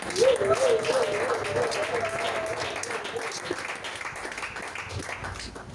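Church congregation applauding in praise, a sustained wash of clapping that starts strong and slowly tapers, with a voice speaking over it early on.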